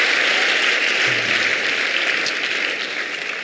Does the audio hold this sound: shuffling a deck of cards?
no